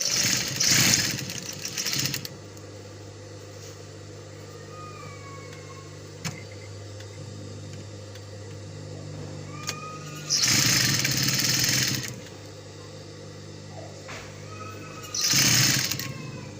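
Sewing machine stitching down fabric for a full-flare gown collar, running in three loud bursts of rapid stitching separated by quieter stretches of low motor hum.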